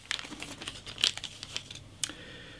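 A plastic Ziploc bag holding scale model parts crinkles and rustles in short, crisp bursts, handled close up and quietly with brief pauses between.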